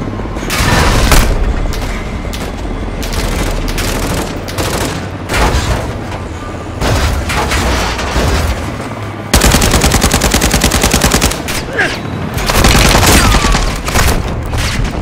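Loud, close bursts of automatic gunfire and explosive booms in the video game Call of Duty Modern Warfare 2, with rapid machine-gun rattles in quick, repeated volleys.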